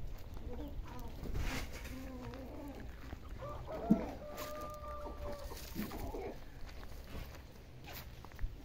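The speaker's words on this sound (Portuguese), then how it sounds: "As galinhas estão chegando agora aí, ó." Chickens on a small farm plot cluck softly and intermittently at a distance, mixed with rustling and footsteps in a quiet outdoor setting.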